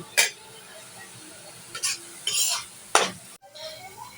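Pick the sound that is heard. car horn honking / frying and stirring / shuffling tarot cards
frying and stirring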